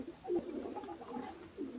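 A racing pigeon with a broken wing, back home after three months missing, gives a soft, low coo close by, with a brief rise early on and quiet murmuring throughout.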